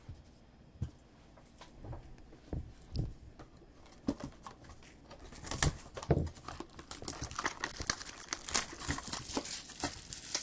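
2020 Topps Chrome trading card packs are unwrapped up close, with crinkling foil wrappers and sharp tearing bursts that grow busier and denser toward the end.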